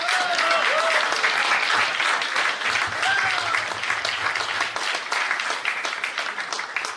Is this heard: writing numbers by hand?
no